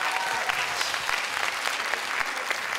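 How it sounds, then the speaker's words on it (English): Warm, continuous applause from a seated audience at a youth science seminar welcoming a speaker to the stage, an even, close crowd of clapping without talk. "All applause to her."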